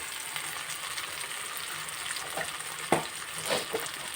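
Spices with chilli powder and a little sugar fry in a pan for coriander chutney, a steady close sizzle with a few scraping stirs, a sharper clack near the middle, no talking.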